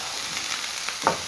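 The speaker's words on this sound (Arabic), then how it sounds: "هقلب البصل لحد ما يذبل معايا" Sliced onions sizzle and crackle steadily in a hot tray as they are stirred, a close, continuous frying hiss with one brief scrape near the end.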